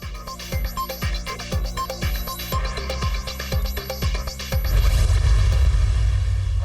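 Fireworks display over Greater Iqbal Park and Ittehad Town in Lahore for Independence Day, a rapid rhythmic series of sharp bangs and pops that gives way to a louder rumbling roar of bursts.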